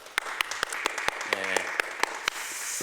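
Church congregation clapping during Sunday worship, sparse but sharp individual claps landing in an irregular rhythm over a soft room murmur, with a voice briefly audible in the middle.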